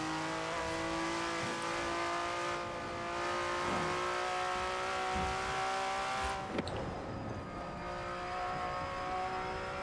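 Car driven in the racing video game Forza Horizon 4, a steady engine drone with layered harmonic tones and a brief sharp burst partway through, loud and continuous with no talk.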